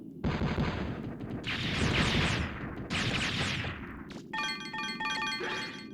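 In the PS1 game Mega Man Legends, a trap sets off a series of loud blasts, several bursting booms in quick succession followed by a bright electronic chiming effect, with no talking.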